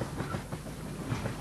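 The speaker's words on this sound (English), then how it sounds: "When you need to get out of town in a hurry, you hop on a freight train." A moving freight train rumbles along the rails, with a steady loud roar and rhythmic clickety-clack heard close from on board.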